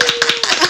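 A short burst of hand clapping welcomes a podcast guest, several quick, close claps at an uneven rhythm, loud and with no talking over them.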